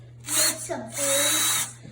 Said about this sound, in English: what we've done is we've used the drill here